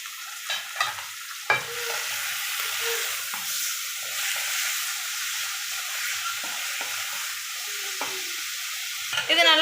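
Onions and tomatoes are sautéed together in a pan for chicken gravy, a soft continuous sizzle with occasional spoon scrapes and clinks against the pan.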